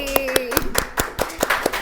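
On a podcast, listeners clap for a national-finalist solo vocal singer: a quick, even run of crisp handclaps from a small group, with a voice briefly over the first half-second.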